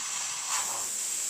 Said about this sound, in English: we'll just blow some steam out